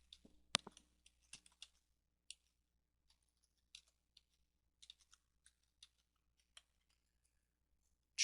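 Faint, sparse clicks of keys on a computer keyboard as a domain name is typed, coming in short irregular bursts with long quiet gaps and no voices.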